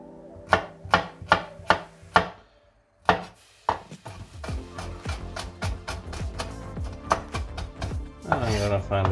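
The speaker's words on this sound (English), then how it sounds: "I'm gonna cut it like this in half." A kitchen knife halves a bulb on a cutting board: five crisp, evenly spaced knocks, a pause, then a faster run of chopping taps and clatter, close and clear.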